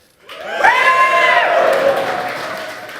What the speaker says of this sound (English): can I get a big cheer from anyone who's fought the Barrows?